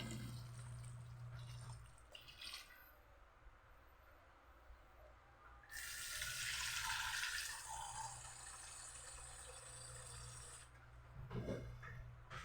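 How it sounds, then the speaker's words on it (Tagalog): Water is poured into a cooking pot of pancit in a steady splashing stream for a few seconds, surrounded by quieter kitchen background noise. "dagdagan natin ng tubig"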